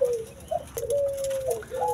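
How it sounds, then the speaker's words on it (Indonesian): A puter deruk dove from Jambi gives a drawn-out, steady coo, a low hooting note held and repeated with brief breaks, close and fairly soft. "Ini burung puter deruk dari Jambi kata tukang burungnya gitu"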